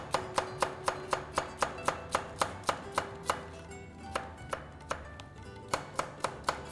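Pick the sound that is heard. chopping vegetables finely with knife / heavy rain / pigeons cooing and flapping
chopping vegetables finely with knife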